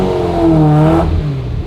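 A Ferrari 348 engine revs briefly as the car pulls into a garage, a short loud rise and fall of engine note in an enclosed space.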